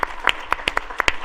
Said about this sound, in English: round of applause for Planescape